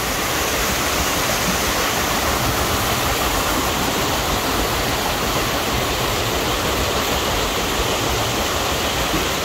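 Water released through a sluice rushes onto an old water wheel, a loud, steady, broadband roar that continues unbroken and close for the whole stretch with no talking.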